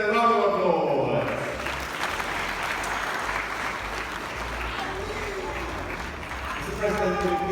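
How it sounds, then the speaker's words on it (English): A crowd claps at the Ghana smart schools launch with the president present, sustained mid-loud applause under an announcer's voice at the start and end. "Ladies and gentlemen, round of applause."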